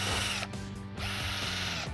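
A Switchdriver power drill with a pilot bit bores a pilot hole for a door hinge, its motor whirring loudly and steadily for two seconds with a brief dip and pawl-like clicking partway through, close and alone.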